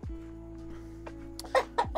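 A chicken gives a few short, soft clucks close by over a quiet background hum.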